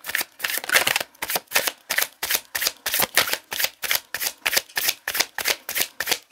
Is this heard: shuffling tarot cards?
yes